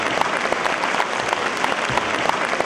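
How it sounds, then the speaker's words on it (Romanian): An audience at an Aromanian spring celebration in Constanța claps steadily in a dense, even wash of applause, with no voices standing out. "nu vrem decât să-l aplaudăm"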